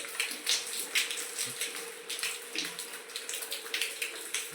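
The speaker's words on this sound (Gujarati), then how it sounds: "હજુ અહીંયા ફળિયામાં ઓલા પતરાના નેવાનું પાણી પડે છે।" Rainwater runs off the tin roof eaves into a village courtyard, a steady close splashing patter that stays even throughout, with no voices.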